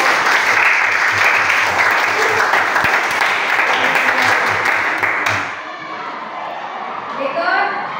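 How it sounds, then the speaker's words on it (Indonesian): Classroom of children applauding, a dense burst of clapping with some shouting that holds steady for several seconds, then fades into quieter room chatter. "Berikan aplaus buat"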